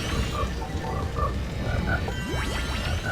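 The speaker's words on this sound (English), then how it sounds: "Why is it that I can hear frogs and can't see them?" Frogs croak in the swamp level of the Jak and Daxter video game, short repeated croaks spread across the clip over a steady ambient game soundscape, with sweeping whistle-like effects near the end.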